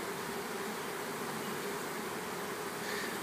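Honeybees buzz steadily around a busy beehive in an urban garden, a dense continuous drone with no talking over it.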